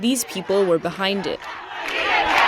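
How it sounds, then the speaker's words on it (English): A crowd of Cuban protesters in St Peter's Square at the end of the Pope's Angelus shouts a chant, the massed voices swelling after someone speaks over the start. "a chant broke out among the crowd."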